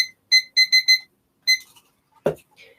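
A timer alarm sounds in four quick electronic beeps, then a fifth after a pause, loud and close, followed by a brief low thump and faint rustling.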